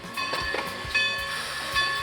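An excursion train on the Everett Railroad in Blair County rolls along the track, with rhythmic wheel clicks and a steady hum at moderate volume.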